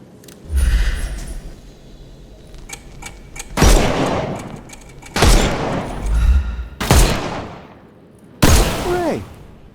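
Bursts of gunfire in the Sherlock Holmes: Chapter One video game, several separate volleys with short gaps between them, loud and close, with faint game sounds underneath.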